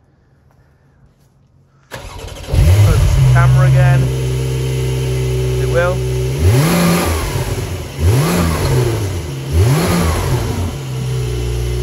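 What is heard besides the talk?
Porsche 911 992 Turbo S engine starting and revving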